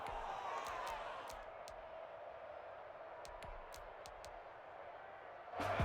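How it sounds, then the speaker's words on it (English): Simulated stadium crowd in a Madden NFL 21 American football game, a steady broad wash of distant cheering and applause that swells toward the end, with a few faint sharp clicks on top. "How about some applause for the defense there?"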